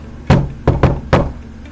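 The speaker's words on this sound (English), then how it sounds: "there was a tap on the sliding glass door that led out to the deck" Four hard raps on a sliding glass door leading out to a deck, loud and close, in an uneven pattern with one quick pair in the middle.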